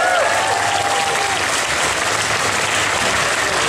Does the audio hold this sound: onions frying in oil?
no